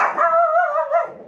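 A shop dog gives a single drawn-out, howling woo-woo vocalization, loud and close, lasting just over a second.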